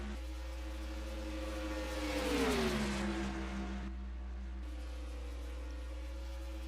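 Stock cars race at Talladega in the NASCAR Racing 2003 game: an engine roars up to a close pass, its pitch sliding down as it goes by, over a constant low drone of the pack.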